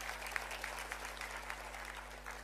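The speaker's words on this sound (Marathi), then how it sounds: "त्यांच्यासाठी आणि प्रुडंट मीडियासाठी जोराने टाळ्या वाजवा" An audience at a Chhatrapati Shahu Maharaj anniversary event in Goa claps steadily, a faint, even spatter of applause with no break.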